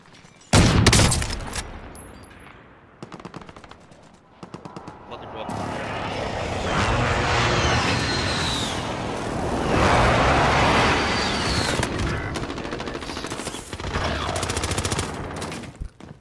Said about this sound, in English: I just fucking put 30 bullets into the dude